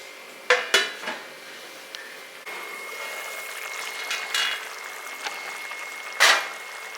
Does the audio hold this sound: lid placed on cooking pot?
yes